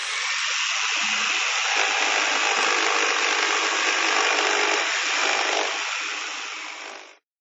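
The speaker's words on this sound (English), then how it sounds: "You have a band saw, you have a circular saw, and this one makes this sound." Circular saw cutting wood, a loud continuous high-pitched whine and buzz of the blade through the cut, held steady for several seconds before winding down and stopping.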